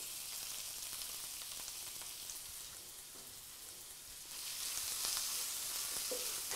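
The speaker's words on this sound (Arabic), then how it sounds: "نحمصو مليح هذاك البصل في الزبده باش يعطينا بنه للمقارون تاعنا" Onion fries in butter or margarine for a macaroni dish, giving a steady, faint, rain-like sizzle that grows somewhat louder and brighter in the last couple of seconds.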